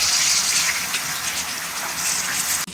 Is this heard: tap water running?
yes